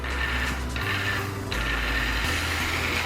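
The electric motor of a New Bright Reaper RC truck whines as the throttle is feathered, with its pitch stepping up and down in short surges against a gear-like mechanical rattle, close and loud.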